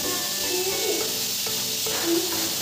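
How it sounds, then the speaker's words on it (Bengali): Food fries in a pan with a constant close sizzling hiss and occasional stirring scrapes, a faint voice in the background. "ভাজাটা করে নিই"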